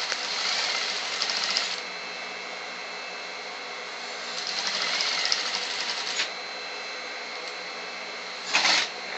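A sewing machine stitches down a besom pocket in two long steady runs with a short burst near the end, a moderate whirring hum, no talking.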